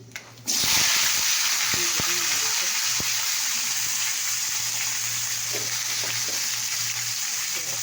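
Cut potatoes hit a wok of hot oil with panch phoron and burst into a loud, continuous sizzle that holds steady, with occasional stirring knocks and no talk.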